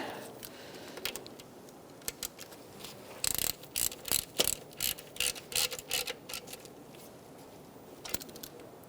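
A ratchet snugs up bolts on the alternator bracket of a 2002–2006 Toyota Camry engine. It makes quick bursts of close clicking at an uneven pace, with short pauses between turns.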